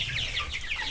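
White Rock meat chickens clucking in a quick, continuous murmur of overlapping calls, close and steady for under a second.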